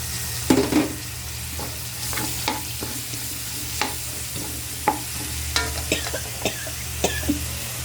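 Ginger and aromatics sauté in a pan with a steady low sizzle, punctuated by repeated clinks and scrapes of a utensil stirring the mixture.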